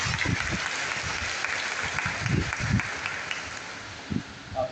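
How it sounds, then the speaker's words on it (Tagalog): Congregation applauding at Mass in the Shrine of San Roque, Caloocan City, a sustained, full round of clapping filling the church, fairly even with a few louder swells. "isang malakas po na palakpak sa ating Panginoon"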